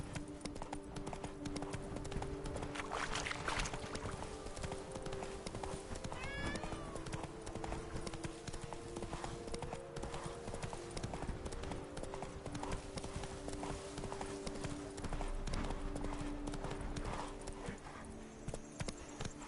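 Horse hooves galloping in The Witcher 3, a fast steady clip-clop rhythm running throughout with a brief whinny partway through, loud and close over ambient game sound.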